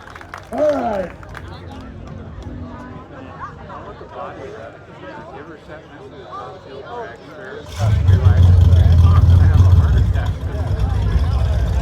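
A crowd at a car show cheers for a 1966 Corvette, first a murmur of voices and chatter, then a loud swell of cheering and clapping close by that holds for several seconds.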